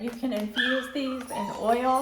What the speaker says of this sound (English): Sorry about my dog. My dog's going crazy.